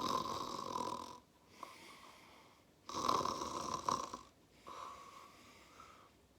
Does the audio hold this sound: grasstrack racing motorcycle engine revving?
no